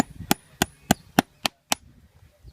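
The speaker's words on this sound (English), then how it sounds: "You can just tap them in, work it in." Six sharp metallic taps from a hammer driving horseshoe nails into a hoof, evenly spaced about a third of a second apart, ringing briefly, then quiet.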